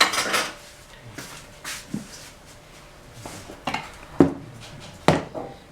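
Apple clafoutis batter being stirred in a bowl, with a series of separate clinks and knocks of utensil against the bowl, close and irregular, spaced about a second apart.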